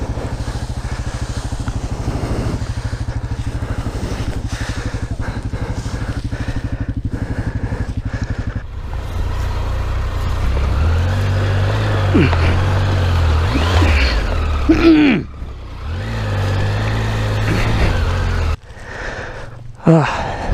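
A Kawasaki KLR 650 motorcycle rides muddy woodland trails, its engine droning steadily and then rising and revving unevenly as it pushes through, loud and close.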